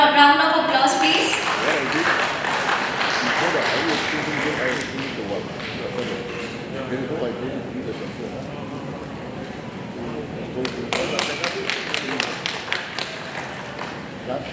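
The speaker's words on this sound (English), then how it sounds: "May I have a good round of applause please?" Audience applause fills a hall at an architecture builders' gathering in Dimapur as an architect is felicitated on stage. Dense clapping starts loud, softens into a long steady patter, then swells again with sharper claps.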